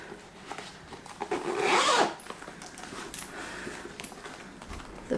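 A zipper being pulled on a vintage Chanel bag with a CC zipper pull, one drawn-out rasping zip swelling over about a second, close and fairly loud, with faint handling rustles around it.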